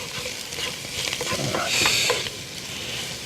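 Vegetables, including red onions, are tossed in a hot pan, giving a close, continuous bright sizzle with bursts of rustling and scraping as they are stirred, no speech.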